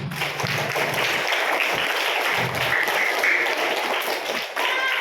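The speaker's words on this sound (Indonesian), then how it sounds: "Tepuk tangan untuk teman kalian." Schoolchildren in a primary school classroom give steady applause for a classmate, a dense continuous patter of many small hands clapping close by for about five seconds.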